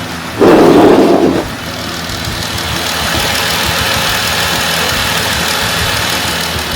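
A Jeep JK engine idles while warming up to open the thermostat. It opens with a brief louder surge, then settles into a steady, close, even running drone with no talk.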